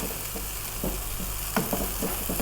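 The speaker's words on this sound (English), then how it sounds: "Not sure if you can hear that, but it is starting to squeak now." Bubble and squeak of potato and cabbage frying in oil, a steady close sizzle with soft stirring scrapes and faint squeaks coming through.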